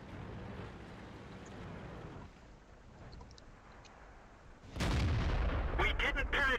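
Tank cannon fire in World of Tanks from a T20 Tier VII medium tank: a sudden loud blast midway hits after a duller rumbling stretch, followed by sharp crackling reports, with no talking.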